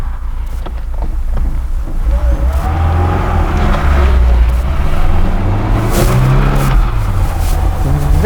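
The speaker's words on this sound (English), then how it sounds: "Very smooth and very impressive acceleration in this car." A 1983 Lada VAZ 2106 car accelerates from inside the cabin, a loud, close engine roar rising and falling in pitch as it revs through the gears, with road rumble beneath.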